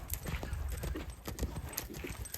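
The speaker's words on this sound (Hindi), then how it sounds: "तूफान को तो घंटा घंटा दौड़ाना पड़ता है" Horse hooves clip-clop in a quick, steady rhythm as the horse runs close by, the hoofbeats loud and continuous with a constant outdoor rumble beneath them.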